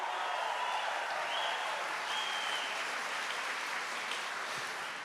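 A church congregation at a Catholic priest's sermon applauds and cheers, a broad, even wash of clapping and crowd noise holding steady throughout with a few raised voices inside it.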